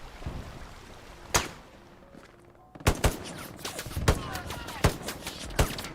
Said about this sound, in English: MG fire's going over his head